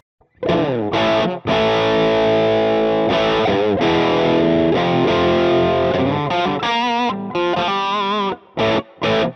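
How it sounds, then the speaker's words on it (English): Stratocaster-style electric guitar through a mild built-in overdrive, similar to a Tube Screamer, rings out held chords and quick riffs, ending in short clipped stabs, loud and alone. "It sounds like a tube screamer, a little bit"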